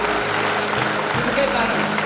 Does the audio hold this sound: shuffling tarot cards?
no